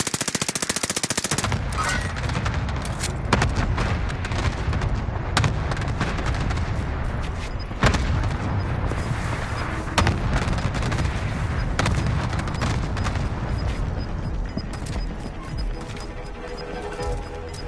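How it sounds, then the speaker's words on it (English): Dense, loud battlefield noise during an airstrike in a battle royale shooter game, with heavy booming impacts and continuous rapid gunfire that sustains a steady roar for the whole stretch. "Mark target for airstrike!"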